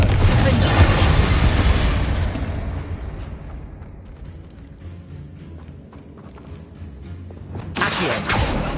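A Confringo blasting spell explodes in the Hogwarts Legacy video game, a loud rumbling boom that decays into a low churning tail with scattered debris rattles, then a second strong burst of noise swells at the end.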